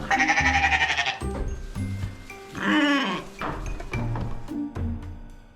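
Shetland sheep ewes and lambs bleating inside a barn, several loud nearby calls overlapping with higher lamb cries, plus occasional thumps and rustling between them.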